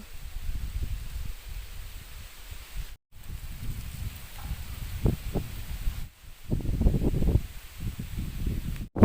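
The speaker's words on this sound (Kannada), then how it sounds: "ಭಾರಿ ಗಾಳಿ ಉಂಟು" Strong wind rushes and rumbles against the microphone in uneven gusts, with brief drops to near silence between.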